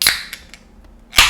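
A bottle of La Fin du Monde beer is opened with a sharp pop at the start and another short burst of fizzing release near the end, close and fairly loud, with quiet between.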